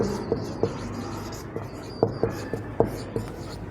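Chalk or marker taps and scratches on a board during an English grammar class, a run of short sharp strokes and clicks, close and distinct over a dull room background.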